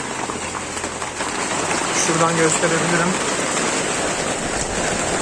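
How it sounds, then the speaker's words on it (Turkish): Steady rain pours onto and into a chicken coop, a constant heavy patter and hiss, with someone briefly speaking over it. "Yağmur da hala devam ediyor bu arada bakın."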